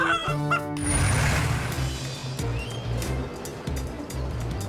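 A cartoon character voices clucking hen sounds in a rhythmic, sing-song imitation while steering a vehicle, heard with music and engine-like hum beneath, close and prominent over a busy animated soundtrack.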